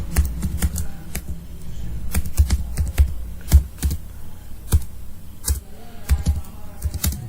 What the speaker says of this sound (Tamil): ஜஸ்ட் ப்ரோக்ராம் டைப் பண்ணுறேன்